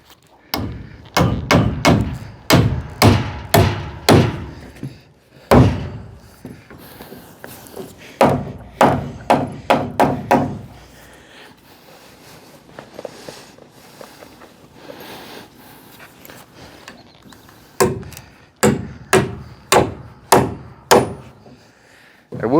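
Hammer blows nailing roof trusses in place on a framing job, sharp close wooden strikes in quick clusters separated by short pauses and quieter handling sounds.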